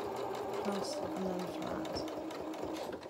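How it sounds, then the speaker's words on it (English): A sewing machine stitches fabric for a stuffed cat's head in a steady, continuous mechanical whir close by while someone talks over it. "Just pop that in the machine."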